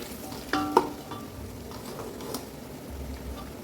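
Mint and coriander leaves sautéing in oil for chicken biryani: a steady, soft sizzle with a few clinks and scrapes of stirring near the start, no voices.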